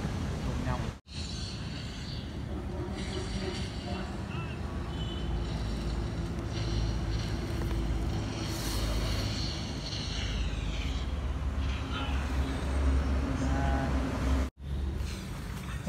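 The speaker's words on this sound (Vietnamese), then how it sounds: "Hình như là tuôn cái nhông rồi anh em ạ." A mini RC farm truck hauling sand over a muddy track, its stripped pinion gear grinding, gives a steady, loud whirring drone that runs almost the whole time, broken by two brief cutouts.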